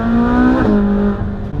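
Ferrari 458 Spider engine heard on a test drive, a loud, close, rising howl that drops in pitch partway through, as on a gear change, then fades slightly.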